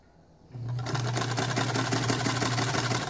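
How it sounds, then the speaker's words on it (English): A foot-pedal electric sewing machine starts up after a brief quiet moment and runs at a steady fast hum with rapid needle clatter, close and continuous. "I'm going to try to sew while I talk to you."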